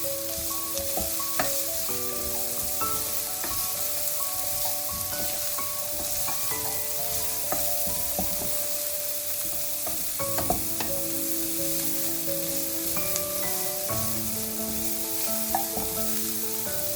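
Ingredients roast in hot oil for burnt garlic noodles, giving a steady sizzle with occasional stirring clinks, close and continuous under a bed of background music, no talking.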